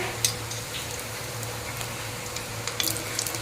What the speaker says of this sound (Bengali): তো এদিকে কড়াইতে তো আমি লুচিটা দিয়ে দিলাম